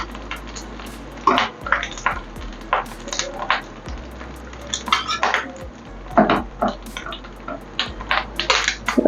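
Fried fish egg fritters lifted one by one from a pan after the gas is turned off: sharp metal clinks and scrapes of a utensil against the pan in irregular bursts, close by, with faint background hum.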